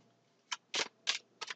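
A deck of tarot cards gets shuffled in short, crisp riffling bursts, four quick papery flutters close to the microphone against a quiet background, with no talk.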